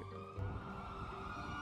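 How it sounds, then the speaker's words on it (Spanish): Police car sirens wail faintly in GTA roleplay, a brief, steady tonal whine from a distance. "Hay mazo de patrullas, chaval."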